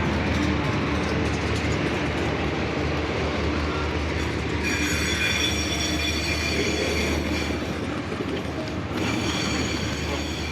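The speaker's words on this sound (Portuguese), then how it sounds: "Enquanto a gente acompanha o trem." Train passing on rails, a loud continuous rumble with rattling wheels and high squealing tones that come and go, heard close and without talk.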